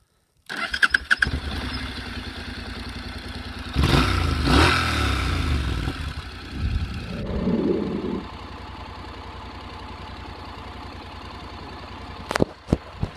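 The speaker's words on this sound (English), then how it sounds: "we'll start her up. And she sounds nice and throaty" A Honda NC750X motorcycle engine cranks and fires up, revs briefly with a deep throaty rumble, then settles into a steady idle, ending with a few faint clicks.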